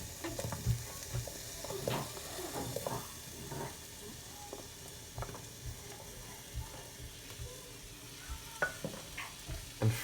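Onion and red pepper frying in a pan with leftover chicken and chorizo juices for risotto, a steady low sizzle broken by scattered stirring scrapes and clicks, no talk.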